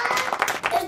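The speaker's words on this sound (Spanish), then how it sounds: "Un aplauso para Dani, muy buen juego." A brief burst of clapping for a player after a Hot Wheels T-Rex Takedown game at home, a few hands patting quickly and moderately close for under a second.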